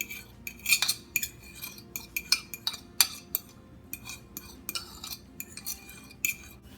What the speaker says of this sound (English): Now we're going to add the mayonnaise and eggs mixture into the flour mixture.